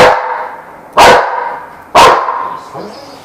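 A dog barks three loud, close barks about a second apart, each sharp bark trailing off into a fainter whine between them.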